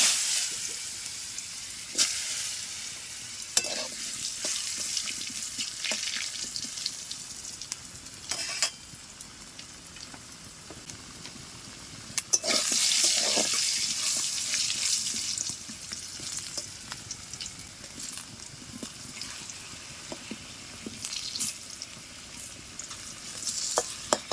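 Steady frying sizzle of potatoes with salt and turmeric in hot oil on a stove, a continuous hiss with occasional louder crackles and stirring scrapes, close up, no talking.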